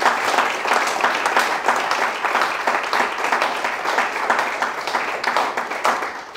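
A church congregation applauds and acclaims Jesus during a sermon, with steady, loud clapping from many hands that fills the room throughout.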